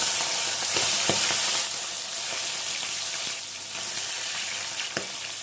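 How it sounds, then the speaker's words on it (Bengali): Fish heads frying in hot mustard oil in a pan, a steady loud sizzle with crackles and a few sharp pops, no voices. "এবার এখানে প্রথমে মাছের মাথাগুলো ভেজে নেব।"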